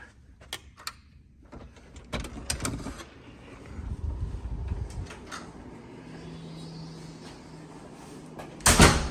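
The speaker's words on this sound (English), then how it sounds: "So the door closes" A hotel room door swinging shut, with a few scattered clicks and handling knocks, a dull thud of the door meeting the frame in the middle, and a sharp latch catch near the end, close and fairly quiet.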